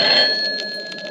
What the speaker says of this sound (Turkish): zil çalıyor, kapıya bak.